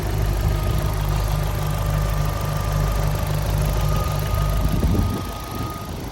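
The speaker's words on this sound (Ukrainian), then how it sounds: "Ось так працює мотор." A 2010 Opel Astra H petrol engine idles steadily with a low, even rumble and faint vibration, close up and continuous, with no talking.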